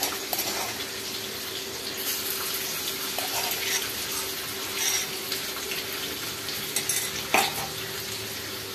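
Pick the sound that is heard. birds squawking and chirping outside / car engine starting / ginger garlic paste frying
ginger garlic paste frying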